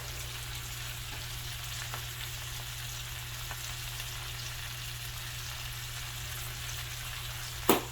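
Sausage and sugar snap peas sizzle steadily in a pan over medium heat while being stirred, a constant close frying hiss with a brief utensil clink near the end.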